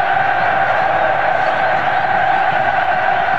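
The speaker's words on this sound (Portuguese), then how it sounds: "E grita a torcida do Fluminense." Fluminense football fans shout in a stadium during a 2002 Brazilian championship match against Corinthians, a steady, dense crowd roar that holds at an even level throughout, with no single voice standing out.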